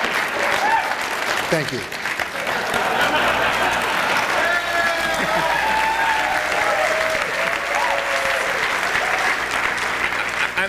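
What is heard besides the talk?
audience applause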